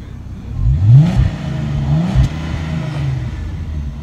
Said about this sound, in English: So we're gonna give you a few revs now.